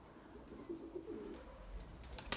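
A pigeon coos softly at close range, a few low rolling notes, followed by faint rustling and a couple of sharp clicks.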